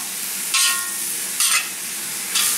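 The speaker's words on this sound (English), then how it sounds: "I'm gonna add these vegetables and stir fry them" Vegetables stir frying in a hot wok for Chinese pepper steak, a constant close sizzle with three brief louder bursts of hiss as the food is tossed.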